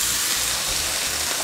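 Water poured into a hot pan of frying cabbage sets off a loud, steady hiss of steam that fills the whole moment without break, close and dominant.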